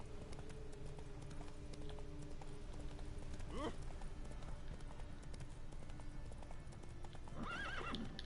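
In the video game Witcher 3, the horse Roach trots with steady, quick clip-clopping hooves over a constant background bed, and two short whinnies rise above it partway through and again near the end.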